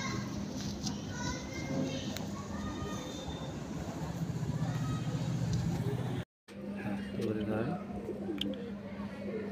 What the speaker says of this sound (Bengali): আমি প্রথম ভিডিও যে দেখিয়েছিলাম এই পায়রা দেখুন সম্পূর্ণ আলাদা, কিন্তু জনিদারই পায়রা।